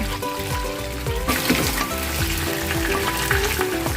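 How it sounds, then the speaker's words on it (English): Loud, steady sizzling and crackling of battered prawns frying in hot oil, close by and continuous throughout. "Now turn the prawns and fry the other side for 2 minutes."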